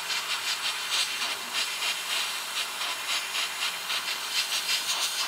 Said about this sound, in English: just slowly bring the paint in and keep the airbrush moving